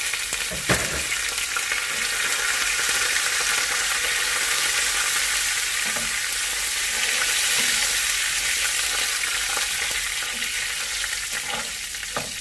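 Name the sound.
frying spices in a pan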